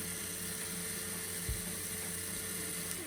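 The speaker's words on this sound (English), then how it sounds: "here I have a high torque DC motor. This will be powering the whole contraption" A high torque DC motor drives a LEGO transmission with a steady high whir and faint gear whine, quiet and continuous, with a single soft low knock midway.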